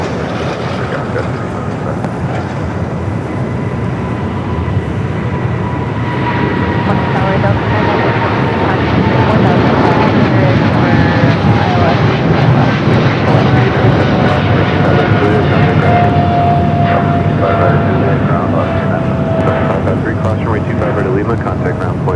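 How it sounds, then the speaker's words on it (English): A DHL Boeing 777 freighter rolls down the runway at LAX for takeoff, a loud sustained engine roar and whine building steadily, heard from the airport side with voices talking over it. "we got that Singapore DHL 777 freighter now rolling down"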